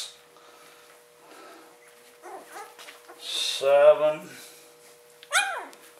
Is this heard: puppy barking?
yes